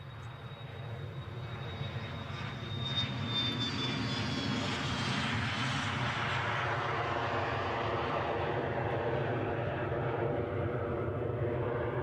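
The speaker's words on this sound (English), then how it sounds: "One of only 80 made in total by Embraer. A 500 Legacy." An Embraer Legacy 500 business jet passes at Edinburgh airport, its engine roar growing and then holding loud and steady, with a faint whine that shifts in pitch.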